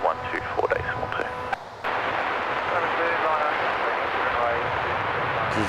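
A Qatar Airways airliner arriving at Adelaide Airport gives a broad, steady jet roar that swells in after a brief stretch of radio chatter and then holds loud and constant.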